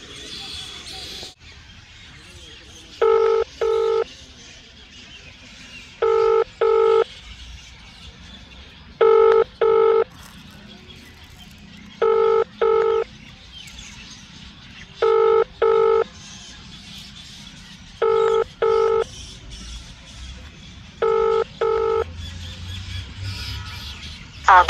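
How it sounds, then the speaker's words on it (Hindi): An outgoing phone call rings unanswered: paired ringback tones repeat about every three seconds, roughly eight times, over a faint, steady background hiss. "कॉल कर रही है ये आप सुन सकते हैं कि किस तरह से इन्होंने दोबारा कॉल लगाई और वो व्यक्ति कॉल नहीं उठा"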